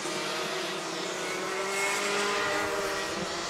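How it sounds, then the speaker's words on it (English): A pack of 125cc Rotax Max racing karts screams past at a race meeting, with dense, high-pitched two-stroke engine whine sustained loudly throughout and a slight rise as the field goes by. "As the field fires through, the last lap board about to come out for Dan Kinsman."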